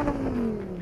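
A Lamborghini in the BGMI mobile game revs its engine, a loud, smooth, slightly falling whine holding steady for under a second.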